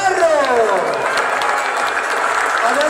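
At a birthday party show, an audience breaks into sustained applause mixed with cheers, loud and close, with a few voices calling out over the clapping.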